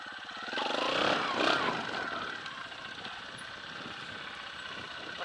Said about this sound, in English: let's get this bike going and get out there and see what it's about